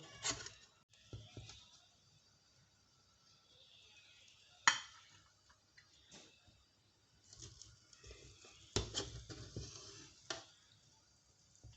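Beef biryani is scooped out of a cooking pot with a spoon, producing quiet scraping, soft rustles of rice and occasional sharp metal clinks against the pot at irregular intervals.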